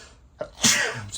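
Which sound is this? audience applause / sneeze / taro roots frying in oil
sneeze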